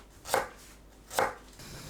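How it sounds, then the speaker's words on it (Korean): Two crisp knife cuts slicing green onions into rounds on a cutting board, close and evenly spaced, with quiet pauses between. "파를 둥글게 썰어줍니다"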